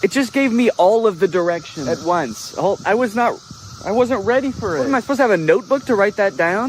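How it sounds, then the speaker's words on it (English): Cicadas drone outdoors during cicada season, a steady high-pitched buzz running throughout beneath someone talking loudly and close. "It's the year of the cicada and they're everywhere."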